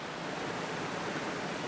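Steady rushing roar of a waterfall pouring down into a hole in the rock, a dense continuous wash of water noise at close range with no voices.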